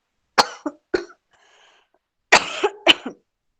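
A short coughing fit from a lecturer: two close bursts of harsh coughs, a brief pause, then two more, loud and near with silence between them.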